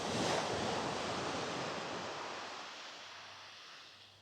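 Sea waves wash steadily onto Kewarra Beach near Cairns, a broad continuous surf roar with some wind, loudest at the start and slowly easing as the tide goes out.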